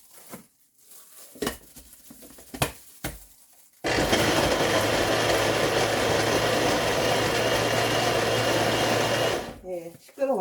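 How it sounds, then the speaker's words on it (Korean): Kitchen blender grinding garlic cloves, salted shrimp and red chili for green onion kimchi, a loud steady whirring roar lasting about six seconds after some quieter handling noises, then stopping abruptly. "믹서기 돌렸습니다"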